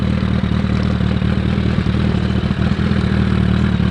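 A custom Suzuki Hayabusa motorcycle idling steadily at close range, a loud, even engine rumble with light mechanical clatter and no talking.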